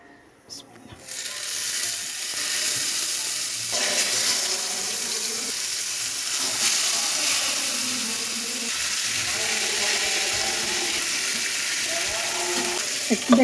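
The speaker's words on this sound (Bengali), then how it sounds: "একটু উল্টিয়ে ভালোভাবে ভেজে নেব" Salt-and-chilli marinated food frying in a pan, a steady close sizzle with hiss and spatter that holds throughout, while a voice speaks faintly underneath.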